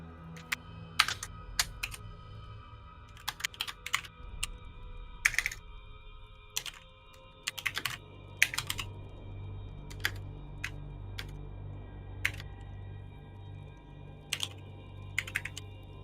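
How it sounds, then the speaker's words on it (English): Irregular clacking of computer keyboard keys, tapped in uneven bursts and single strokes, close by against a low background hum with no voices. "I can just hear Alex typing with one finger each"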